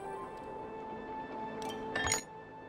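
Dowsing rod activating in the Palia video game, a brief metallic chime ringing out faintly near the end over a quiet background hum.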